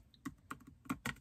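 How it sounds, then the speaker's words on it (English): Quiet keystrokes tap on a computer keyboard in a short, uneven burst of about five or six distinct clicks, heard close with no talking. "Let's type crochet"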